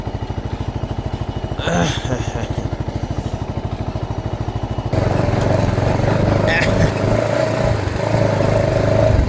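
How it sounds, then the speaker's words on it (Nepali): A motorcycle engine runs steadily with a rhythmic putter on a village road in the morning, then grows louder and rougher as it revs, with brief voices over it. "त्यही भएर जाँदैछु बाइक लिएर"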